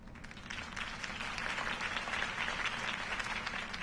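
Crowd applause in the Batman Telltale video game, following a political campaign speech: steady, dense clapping from many hands that holds at an even level throughout, with no voices over it.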